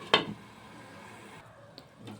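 A lid is set onto a cooking pot of grated squash and peas with spices, a single sharp metallic clink near the start, followed by quiet kitchen background and a faint later tap.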